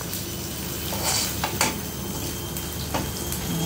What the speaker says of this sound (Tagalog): hayaan muna natin hanggang sa mag-brown yung ating bawang. Ayan, syempre ihalo-halo para hindi siya masunog